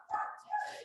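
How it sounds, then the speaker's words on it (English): Dogs barking somewhere near, two quick yappy barks in a row, fairly loud and with nobody talking over them. "Sorry about my dogs."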